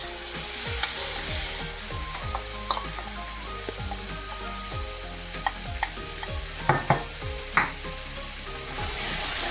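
Spinach paste for palak paneer sizzling in a pan while being stirred, a loud continuous fry hiss broken by rhythmic scraping strokes of the spoon and a few sharp clacks, close up with no talking.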